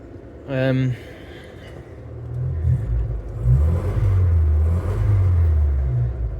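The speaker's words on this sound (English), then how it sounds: "Pretty responsive engine, warming up nicely." A 1967 Humber Hawk engine rumbles low and steady while warming up, then revs up and down in rising and falling waves, loud and close.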